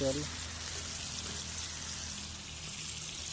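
Rain pours down in a Konkan forest, making a steady, even broadband hiss throughout, with a brief voice at the very start.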